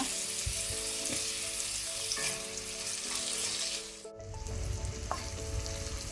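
Onions frying in a pan for Mangalorean chicken gassi, a steady bright sizzle with occasional scraping stirs, close and moderately quiet, with no one talking.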